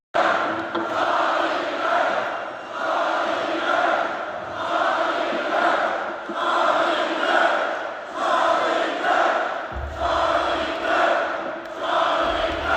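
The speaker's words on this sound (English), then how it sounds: "Listen to that crowd." A concert crowd roars and cheers at a country music show in Missouri, a loud, sustained wall of voices swelling in waves from start to finish, with no talking over it.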